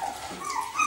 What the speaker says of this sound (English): We had another puppy. Just growling at me,